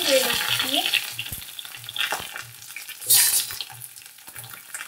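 Long-cut eggplant pieces dropped into hot mustard oil in a pan, a sizzle with spoon clatter and scraping, a brief loud burst of hiss midway, in short uneven bursts.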